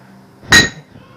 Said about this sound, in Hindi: अब इसमें मैं 2 कटे हुए अमरूदों को शामिल कर लूँगा।